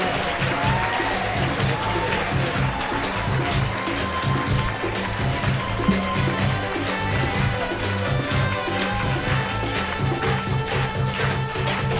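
Congregation clapping hands at a Christian prayer meeting, a dense steady rhythmic patter of many hands sustained throughout over music, fairly loud and continuous.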